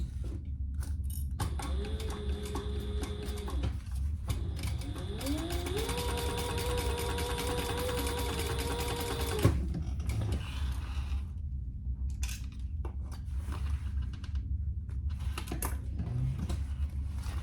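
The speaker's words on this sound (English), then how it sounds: "you're sewing those darts right sides together at 1/4 inch" A home sewing machine stitches darts on crossbody bag pieces, its motor whirring in two steady runs with a mechanical rattle, then stopping, followed by quiet handling noises. No one speaks.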